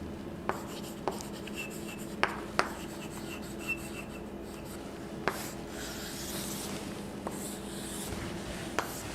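Pen scratching on paper as words are written by hand, a soft continuous rasp with occasional small taps, close but quiet, with no voice heard.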